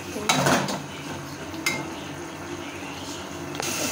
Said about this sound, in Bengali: ঢাকনাটা খুলে একটু নাড়াচাড়া দেবো।